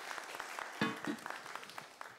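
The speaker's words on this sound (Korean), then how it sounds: "김정인 교수님 그리고 박찬승 교수님께 다시 한번 큰 박수 주시기 바랍니다" An audience applauding the two professors at the close of a history talk concert at a national history museum, a short burst of clapping heard from some distance and fairly faint.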